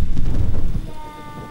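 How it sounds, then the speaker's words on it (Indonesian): Heavy rumbling thunder rolls loud and close for about a second amid rain noise, then fades away as a faint tone rises underneath. "Suara petir kembali menggoncangkan hati"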